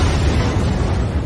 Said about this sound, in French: 1:23:45, explosion.